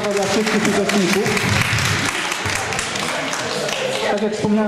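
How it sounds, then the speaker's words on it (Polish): Applause for all participants at a Grandparents' Day tournament at a community cultural centre fills the hall, a dense, loud, sustained clatter of many hands clapping, with a voice speaking over it. "Wielkie brawa dla wszystkich uczestników."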